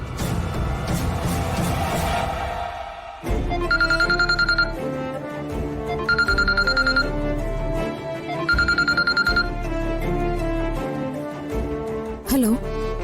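A phone call placed on speakerphone rings three times, each ring a repeated electronic trill separated by pauses, fairly loud and close, with a brief voice and bump near the end.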